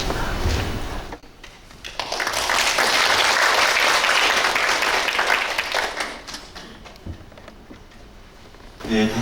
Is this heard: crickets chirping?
no